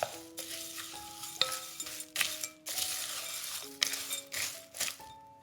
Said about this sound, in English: And mix again.